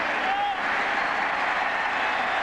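Sellout stadium crowd at a 1997 Indianapolis Colts home game against Miami, a broad steady roar of cheering and applause filling the whole moment, with a commentator's voice over it.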